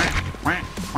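A duck in the Roblox game Evade quacks three times in quick succession, loud and close, each call a short nasal burst with brief gaps between them.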